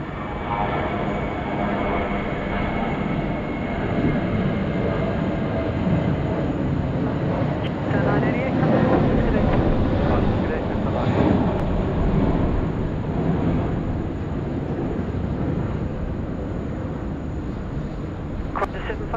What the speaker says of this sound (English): I'm waiting for the spool up of these 777.